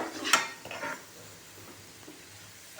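Grated coconut and jaggery get stirred in a pan, with a spoon scraping and clinking against the metal in a few quick strokes, then a soft faint simmer.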